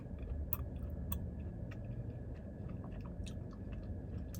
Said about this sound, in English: This cereal is really soft and chewy instead of being crunchy